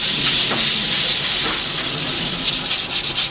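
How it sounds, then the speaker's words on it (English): Sandpaper lightly rubbing along a wooden guitar neck to cut off raised fibers, a steady close scratchy hiss with gentle back-and-forth strokes. "And you want to really gently touch it with the sandpaper so you don't press the fibers down again."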